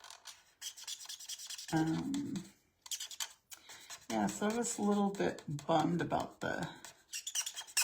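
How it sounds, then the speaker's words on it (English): A marker squeaks and scratches in rapid strokes while coloring on paper, close and crisp, with someone talking over and between the strokes. "I don't know why this one's squeaking. Wasn't squeaking when I was using it yesterday."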